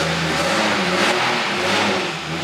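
A twin-turbo Nissan Patrol engine revs hard nearby, a loud, sustained roar that rises and dips in pitch over a couple of seconds with no talking.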